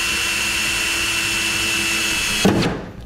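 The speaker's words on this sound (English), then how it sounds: "take our 1/8 inch drill bit, find the center of our attachment point and drill down through the pickup bed" A power drill with a 1/8 inch bit bores down through a Ram pickup truck bed, a steady high whine running for over two seconds before the bit breaks through and the motor winds down.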